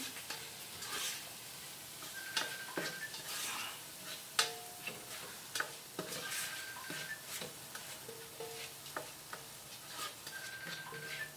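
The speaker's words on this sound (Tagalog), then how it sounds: "Igisa talaga na maigi." Ingredients for Filipino-style spaghetti sauce are sautéed in a pan, with a soft sizzle under repeated clinks and scrapes of a utensil against the pan in an uneven rhythm throughout.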